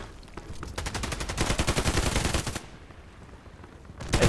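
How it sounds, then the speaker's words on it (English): A Glock 18 pistol fires in Contract Wars as a long, rapid full-auto burst of sharp cracks, followed by a short pause and then the start of another burst. "shoot him with a Glock"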